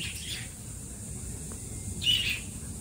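A bird calls at Karnala Bird Sanctuary: two brief bright chirps about two seconds apart, faint and moderately distant against a quiet outdoor hum, with no speech.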